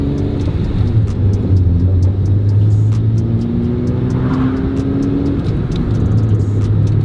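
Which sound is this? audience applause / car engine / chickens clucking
car engine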